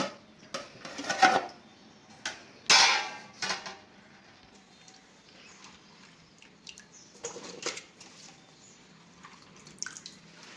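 Sliced potatoes, soaked overnight in water, are tipped with their water into a sieve: a few sharp splashing, clattering bursts, then softer drips and trickles, close by with no talking.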